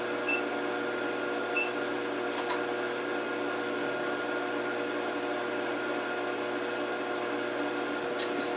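An LH-15a induction heater runs while heating steel to a welding heat, giving a steady, loud electrical hum with a high whine, constant throughout with a few faint ticks.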